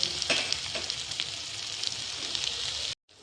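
Ginger, garlic and green chili paste with tomatoes sizzle in hot oil for chicken curry, a close, even frying hiss with faint stirring scrapes before stopping abruptly near the end.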